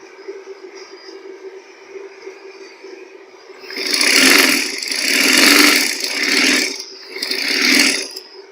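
A sewing machine stitching a girl's frock starts after a quiet hum and runs in four loud, close, whirring bursts with short pauses between them.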